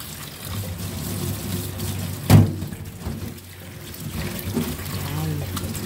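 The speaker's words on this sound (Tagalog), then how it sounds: "Hugasan natin siya hanggang mawala yung kanyang dugo-dugo ba?" Tap water runs steadily into a sink while small anchovies are washed for bagoong, with one louder splash partway through and a constant rushing flow at moderate volume.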